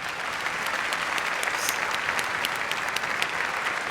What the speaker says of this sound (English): I hope, Dado, I hope you can hear this huge round of applause that's coming at you from the city of New York tonight